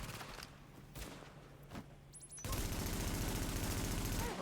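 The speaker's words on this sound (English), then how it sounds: "blind firing not helping me out too much" Sustained burst of blind-fired automatic gunfire in The Division, a third-person cover shooter set in a city, erupting suddenly after scattered single shots and continuing as a loud, dense rattle to the end.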